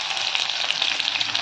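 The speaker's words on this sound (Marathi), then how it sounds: "तेल टाकलेलं आहे, जिरी मोहरी फोडणीला टाकलेलं आहे" Cumin and mustard seeds sizzle in hot oil in a kadhai for tempering, a bright, steady, close-up frying hiss with fine crackling pops throughout.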